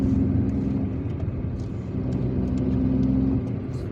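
Small Asian car with a modest engine on an Algerian road between Lakhdaria and Guerrouma, a loud steady engine drone and road roar heard from inside, rising slightly near the end.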